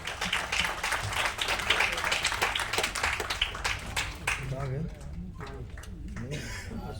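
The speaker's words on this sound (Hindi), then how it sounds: "एक बार जोरदार तालियों से स्वागत करें सर का" Dense audience clapping greets a guest at an Indian artist association award function, loud and continuous for several seconds before fading out as a voice begins speaking.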